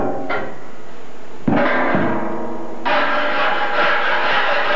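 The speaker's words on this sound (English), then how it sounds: "Scraping the soot off the bottom of the pan." Metal scraper dragging across the soot-covered underside of a maple syrup evaporator pan, several rough, harsh scraping strokes of sustained gritty rasping, close and loud.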